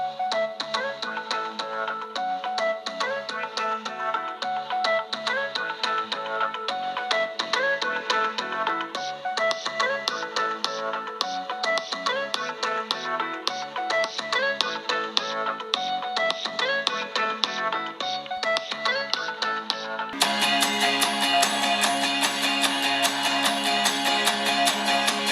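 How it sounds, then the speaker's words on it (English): Music plays through the built-in speaker of a Pixel 3 XL phone, a continuous tuneful track with a busy beat that gets louder and fuller near the end, with no talking. "let me play some music so you can hear"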